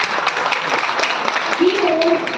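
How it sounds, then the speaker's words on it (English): A hall audience gives a full round of applause for a visiting senior scientist, dense clapping running throughout with a voice briefly audible over it near the end. "I think it deserves a huge round of applause."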